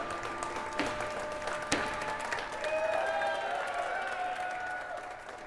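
A studio crowd applauds and cheers on a financial markets show, sustained clapping and whoops at moderate volume with some sharp accents, continuing throughout.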